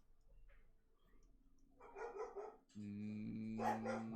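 Dogs barking indoors at close range, two bursts of sharp barks with a growly, sustained run toward the end, against a quiet room.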